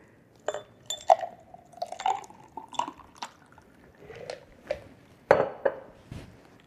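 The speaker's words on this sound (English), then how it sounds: "So let's pour this over this ice." A drink is poured over ice in a pitcher, giving irregular close clinks and knocks of ice against glass with trickling liquid in between.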